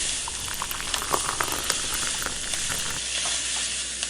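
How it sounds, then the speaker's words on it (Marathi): A steady, busy sizzle and hiss of mutton frying in a pot, with bubbling crackles as hot water hits the hot pan. "मटण व्यवस्थित परतल्यानंतर यामध्ये आपण जे गरम पाणी केलेले आहे ते टाकून घेऊ"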